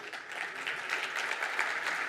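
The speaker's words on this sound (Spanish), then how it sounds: "Recibamos con un fuerte aplauso al expresidente Luis Lacalle Pou, expresidente de Uruguay" Brief, faint applause from a convention audience at an international insurance conference, welcoming former Uruguayan president Luis Lacalle Pou to the stage; an even wash of clapping heard from a distance.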